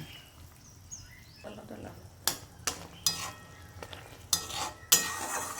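Pomfret fish cooking in mustard and poppy seed paste in a pan with water, salt and chili powder, with soft sizzling and a series of sharp utensil scrapes and clinks against the pan.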